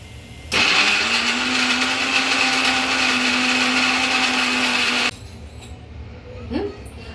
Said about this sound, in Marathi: ते मिक्सर मध्ये आता आपण ग्राइंड करून घेऊया